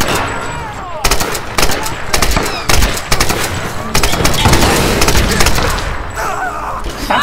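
Rapid bursts of gunfire from the Tomb Raider 2013 video game, loud and dense, with repeated shots and booming impacts filling most of the stretch.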